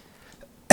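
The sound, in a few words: cough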